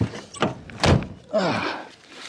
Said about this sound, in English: Door's kind of hard to shut.